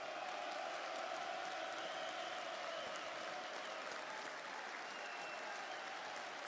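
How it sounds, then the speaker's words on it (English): Applause breaks out during a live Asian-session forex trading stream, a broad dense wash of clapping from a crowd, continuous and fairly loud from start to finish with no talk over it. "Let's get a little round of applause going here."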